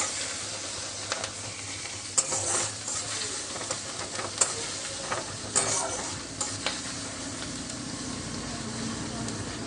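Ginger-garlic paste sizzles in hot oil in a pan as it is stirred, with a steady frying hiss and several scraping spoon strokes and clatters close by, no speech.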